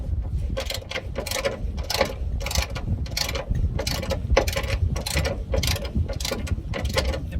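Ratchet slackening long bolts on a Ford Transit Custom, a rapid repeated clicking in regular strokes about every half second, close and continuous over a low background hum, with no speech.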